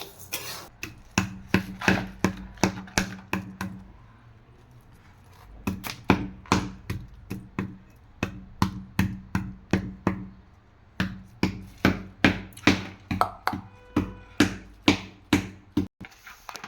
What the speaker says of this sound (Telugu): మా పిల్ల కూడా బెల్లం చేత కొట్టేస్తుంది నాకు హెల్ప్ చేస్తుంది